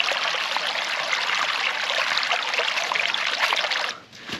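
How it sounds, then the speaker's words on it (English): Water trickling and splashing steadily beside a mountain stream in the Appalachians while a camping water filter is pumped, a constant close hiss that dips briefly near the end, with no talking. "Got ourselves a little water filtration system over here."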